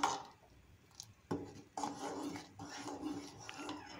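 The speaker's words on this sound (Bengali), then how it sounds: "একটা ঘুটনি দিয়ে আমি গুটে নিচ্ছি ভালো করে।" Khichuri is mashed in a pot with a wooden masher, producing soft, faint scraping and thudding strokes, a few sharper knocks and rubbing sounds at an uneven pace.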